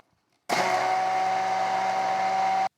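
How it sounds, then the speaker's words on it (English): A handheld immersion blender mixing ceramic glaze whirs on abruptly, runs at a steady high-pitched drone for about two seconds, then cuts off. "and then with the immersion blender"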